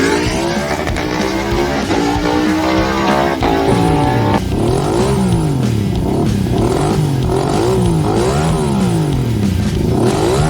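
A 1980s Yamaha VMAX motorcycle with a V4 engine roars loud and close, revving repeatedly in rising and falling sweeps under a thick, steady drone.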